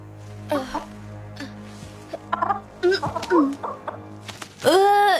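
A rooster gives a few scattered clucks and a longer, louder crowing call at the end, close by, among shuffling noises and a low steady hum.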